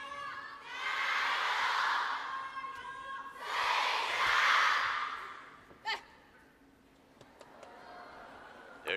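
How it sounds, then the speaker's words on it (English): Spectators at a women's singles table tennis match in China roar in two loud swells of cheering, each lasting a few seconds, then fade to a quieter murmur with a few sharp bursts. "There it is again, crowd likes it."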